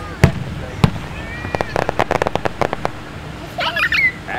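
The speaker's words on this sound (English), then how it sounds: "Watch the fireworks." Fireworks go off in a rapid string of sharp cracks and pops, with a few louder bangs early and crackling bursts near the end, heard from a moderate distance.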